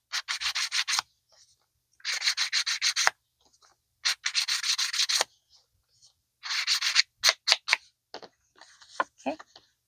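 Bursts of rubbing and scratching on a book or magazine page, worked over to dull its glossy sheen and add scuffs for a vintage Polaroid look; close, papery strokes in several runs with short pauses, ending in lighter scattered scrapes.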